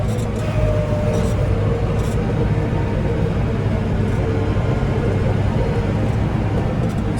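A Kioti HX1151 tractor engine drones loudly and continuously at close range while pulling an Industrias America 2424 offset disc, a dense unbroken rumble with no pauses.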